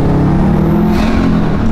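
A Subaru car accelerates hard in second gear, a steady, loud engine drone that holds close and continuous throughout, with no talk over it.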